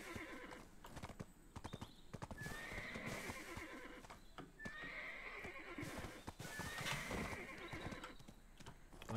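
Rhythmic clip-clop of horse hooves in the video game Black Desert, with several loud neighs and whinnies, the clopping steady throughout, no talking.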